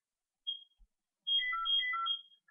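A mobile phone ringtone sounds at a craft table during gluing work: one short tone, a pause, then a steady repeating electronic melody of bright, clear notes ringing close by with no talking.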